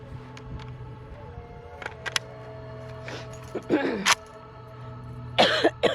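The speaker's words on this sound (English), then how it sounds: "this little cough had me in a Shooter ready. chokehold" A person nearby coughs and clears their throat in a couple of rough bursts, over a low background hum.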